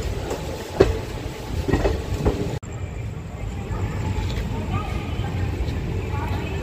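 An inaugural special passenger train from Sindhanur to Yeshwanthpur, running two hours late, rolls into Hospet Junction railway station with a steady close rumble and faint wheel clatter. The sound breaks off abruptly partway through before the rumble resumes.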